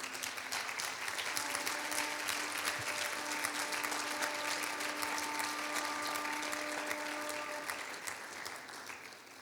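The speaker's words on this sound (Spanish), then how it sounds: "Denle ese aplauso al Señor" A church audience gives sustained applause after a sermon, a broad, even crackle of many hands clapping that runs for several seconds and slowly fades, with a faint tonal hum beneath.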